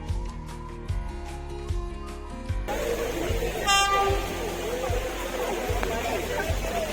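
The Matheran toy train sounds one short, bright horn toot at a hill railway station, over steady rhythmic thumping and people chattering close by.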